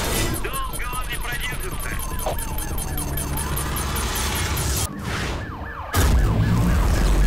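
Police sirens from a Jaguar police car wail and warble in the Need for Speed Hot Pursuit racing game, loud and continuous over roaring engines and crash booms, while someone talks over the gameplay.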